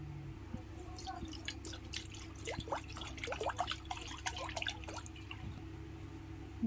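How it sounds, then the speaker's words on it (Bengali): Water is poured into a kadai set on the stove for cooking kochur lati, giving a steady splashing trickle with dripping, close and moderately loud throughout, with no talking. "কড়াইতে দিয়ে দেবো জল।"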